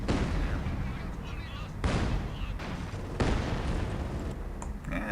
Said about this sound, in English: Enemy infantry firing on me.